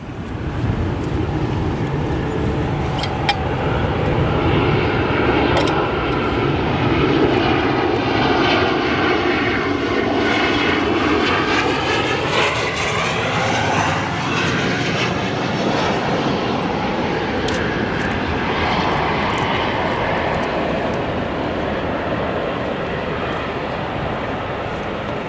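Boeing 757-300 arriving at O'Hare airport, a loud, sustained jet engine roar with sweeping tones as it passes close by, staying strong for the whole span.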